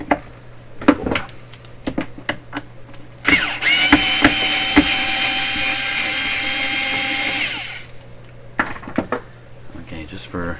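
A power screwdriver whirs loudly for several seconds, working stubborn screws out of a Symphonic 242-A8 suitcase record player, with clicks and handling clatter before and after the sustained run.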